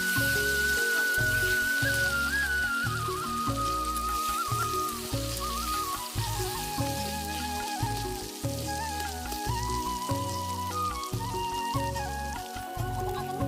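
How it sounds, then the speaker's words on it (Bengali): Potatoes frying in oil, a continuous fine crackling sizzle close up, fairly quiet, with faint music-like tones running underneath. "তো আলুটা এখন ভাজা হোক।"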